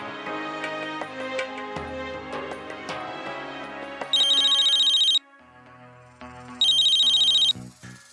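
A telephone rings on an incoming call in a Hindi TV drama scene, two bursts of electronic ringtone over background music with no talk.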